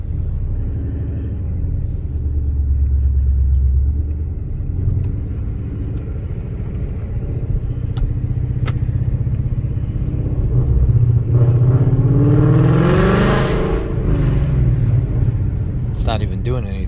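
A 2020 Ford Mustang fresh from the body shop idles with a deep, steady engine rumble, close and loud, then shifts into gear with a rising tone and a brief revving swell near the end, while someone talks over it.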